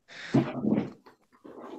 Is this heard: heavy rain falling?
no